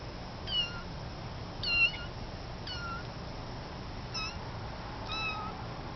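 A small kitten gives a series of short, high meows, about five spaced calls over a few seconds, close by against a quiet outdoor background.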